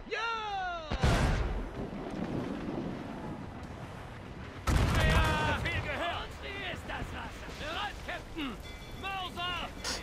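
Two heavy ship cannon blasts boom a few seconds apart amid naval battle noise in Assassin's Creed Rogue, with shouting voices and talk running throughout.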